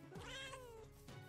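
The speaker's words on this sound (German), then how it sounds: "Noch mehr Katze." A cat in the Minecraft video game lets out a single drawn-out meow, clear and close, with a short second cry starting at the end.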